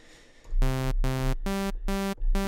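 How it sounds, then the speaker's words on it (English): A generic saw wave synth from the Serum plugin plays five loud, buzzy sustained notes in a steady rhythm after a short, quiet lead-in, with no one talking. "you just have a super generic saw wave"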